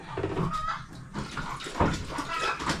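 Running, splashing water as it is fetched for drinking at a rural home by the Agusan Marsh in the Philippines, with chickens faintly clucking nearby.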